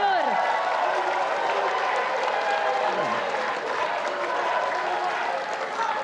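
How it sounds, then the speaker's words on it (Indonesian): An audience at the 2017 Jakarta gubernatorial debate between Ahok and Anies applauds the two governor candidates, producing a steady wash of clapping and crowd noise with a voice over it throughout. "kita beri tepuk tangan untuk kedua calon gubernur"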